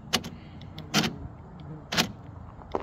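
A tailgate actuator mechanism with worn plastic internal gears clicks and clunks as it unlocks, three or four sharp mechanical bursts about a second apart, close up over a faint background hum.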